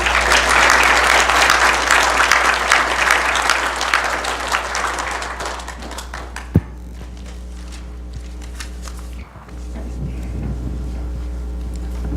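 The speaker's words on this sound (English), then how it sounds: "If we could give them a round of applause." A room applauds at a board meeting, clapping fairly loud for the first several seconds then fading out, leaving a steady low hum with a single sharp knock.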